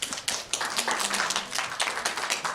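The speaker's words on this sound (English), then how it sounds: "Then she gets a sympathy clap." A short burst of scattered sympathy clapping from a small group, uneven and brief, with a faint voice underneath.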